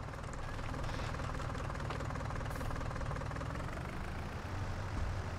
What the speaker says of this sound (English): This little tractor is absolutely perfect for this farm.